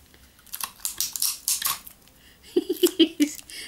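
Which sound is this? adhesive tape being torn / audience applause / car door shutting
adhesive tape being torn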